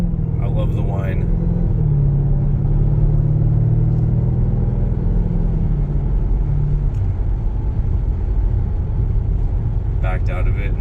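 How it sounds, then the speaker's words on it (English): A 2021 Dodge Durango SRT Hellcat with a supercharged V8 rumbles low and heavy, its pitch rising and easing, with a voice talking over the engine drone. "they did not try to hush down or get rid of the supercharger noise, because you definitely hear it. And I love the whine."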